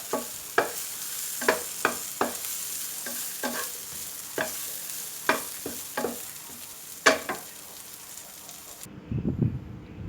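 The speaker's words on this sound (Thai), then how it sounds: "ผัดให้เข้ากันอีกครั้งก็เป็นอันเสร็จเรียบร้อยแล้วครับ" Pork with shrimp paste stir-fried in a pan, sharp repeated scrapes and clacks of a spatula over a crackling sizzle, close and irregular, ending abruptly in a short muffled rustle.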